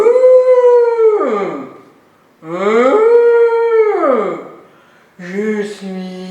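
A human voice imitates an elephant with three long, wavering trumpet-like calls that rise and then slide down in pitch, separated by brief silences.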